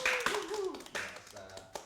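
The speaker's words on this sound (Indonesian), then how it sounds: "Tepuk tangan dong." A few scattered claps from a small audience at a casual Indonesian comedy show, sparse sharp hand claps spread over about two seconds, with a voice and chatter running alongside.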